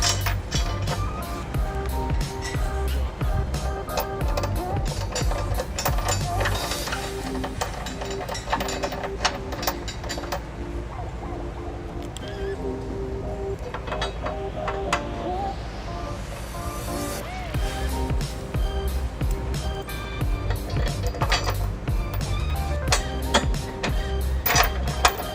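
A ratchet clicks in rapid repeated runs, snugging a bolt into a weld nut while a trailer hitch is fitted to a 2002 Honda Odyssey, mostly continuous and close.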